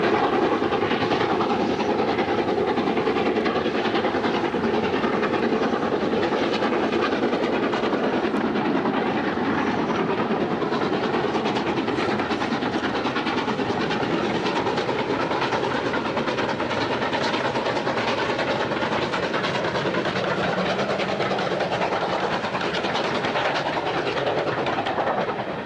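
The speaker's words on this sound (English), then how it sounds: "Ian Riley's 2 locomotives across Burrs" Two steam locomotives run on the East Lancashire Railway near Burrs, giving a loud, continuous rumble and rush of a passing train that holds steady throughout, with no talking.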